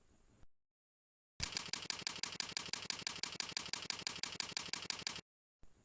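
Keys clack in a fast, steady, even run of typing on a keyboard as article text is entered, the loud burst starting after a short silence and stopping abruptly.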